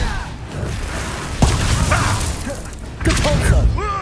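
Confringo fire spell explosions in the Hogwarts Legacy video game, bursting in two loud, sudden impacts with whooshing tails amid a noisy goblin ambush battle, with a voice shouting spell names over the clash.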